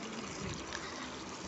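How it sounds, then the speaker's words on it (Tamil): Water pours steadily into a pressure cooker holding four cut pieces of bitter gourd, a continuous close splashing gush with no talk. "குக்கரில் தண்ணி ஊற்றி"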